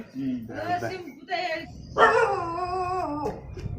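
Several village dogs, about fifteen, bark and howl close by in drawn-out, overlapping calls with short pauses between, loud and insistent.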